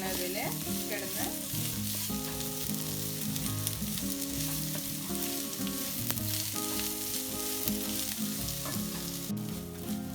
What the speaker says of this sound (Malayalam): സവാള നന്നായി ഒന്ന് വഴന്ന് വരുന്നതിൽ കിടന്ന്